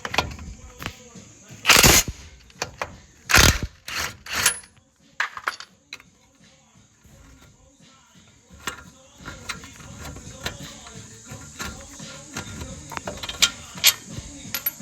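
An impact wrench backs out the top and bottom brake caliper bracket bolts on a 2014 Ram 1500 Laramie 5.7L Hemi, giving several loud, sharp bursts of hammering with quieter metallic clatter and tool handling between them.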